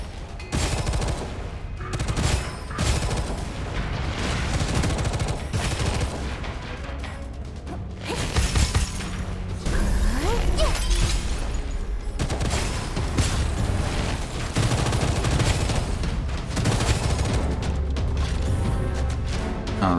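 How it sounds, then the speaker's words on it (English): Rapid bursts of explosions and gunfire in the video game Gunfire Reborn, dense and continuous with sharp booming hits throughout. "this is explosions"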